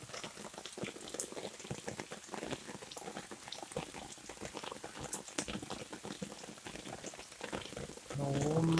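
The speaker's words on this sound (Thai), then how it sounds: "วันนี้ฝนตกแรงนะครับ" Heavy rain falling and pattering densely on surfaces, a continuous close crackling wash with irregular drop impacts, faint overall, and a tonal hum joining in near the end.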